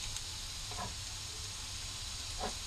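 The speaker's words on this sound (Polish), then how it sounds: "Na razie smażę te kotlety." Cutlets sizzle in a frying pan on the stove, a steady dense hiss throughout with a few faint pops and crackles, no voices.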